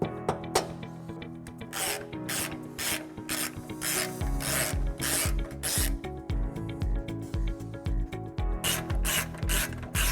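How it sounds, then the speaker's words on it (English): Flathead screwdriver scraping hardened glue off nut threads during a 2020 Tesla Model S hitch install, giving a continuous rasping, clicking scrape with repeated strokes, close and fairly loud, no talking. "we're just going to have to scrape it off with a flathead screwdriver"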